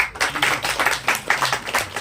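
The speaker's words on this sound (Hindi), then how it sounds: "फिर भी हम उसको तालियों से जरा बताए" An audience claps together in a steady, rhythmic beat of hand claps at a religious discourse gathering, loud and close, with no talk over it.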